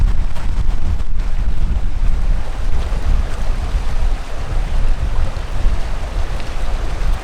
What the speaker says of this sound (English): This is a pretty small creek